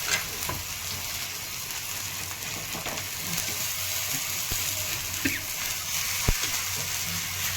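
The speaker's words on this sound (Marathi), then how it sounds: "तेल टाकून घ्यायचं साईडने आणि पलटी करून घ्यायची" Potato dhapate flatbread fries in oil on a pan, a steady soft sizzle with small crackles and an occasional scrape as the bread is turned.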